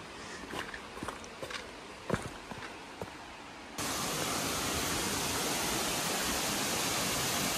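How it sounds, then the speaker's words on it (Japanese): Footsteps crunch along a rocky Mount Takao trail, then a loud, steady rush of water from a rock waterfall takes over and holds close and constant to the end. "最後の見どころは岩滝というところがあるみたいで、もうすでに音が聞こえてきてるんですけども"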